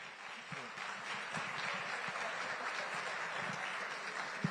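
Faint, steady wash of audience applause at a Jamaican business reform forum, soft and continuous with a few thumps mixed in.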